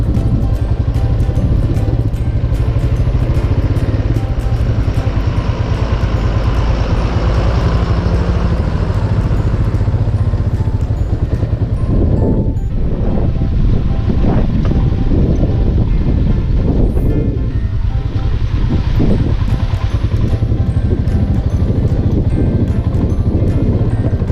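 Royal Enfield Himalayan motorcycle riding a mountain road with a cliff on one side and a drop on the other, its steady engine drone heavily blended with strong wind rush across the microphone, loud and continuous throughout.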